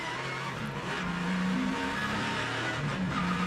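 A NASCAR Nationwide race car at the 2009 Nashville 300, damaged after spinning hard into the wall, with its engine running and revving roughly under steady loud track noise, without any talk.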